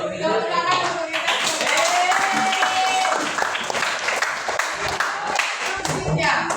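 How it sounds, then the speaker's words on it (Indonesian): A class of students claps together in a room, a burst of busy, close hand claps with scattered voices mixed in. "Tepuk tangan untuk kita."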